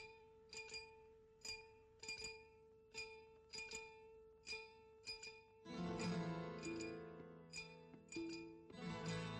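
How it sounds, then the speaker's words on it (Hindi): A film song's opening tune tapped out on a glass tumbler with a spoon: bright, ringing clinks in a lilting rhythm, then joined by fuller band instruments and a steady sustained tone. "उस गाने की जो शुरू की ट्यून है उसे एक कांच के ग्लास और चम्मच से बजाया गया था"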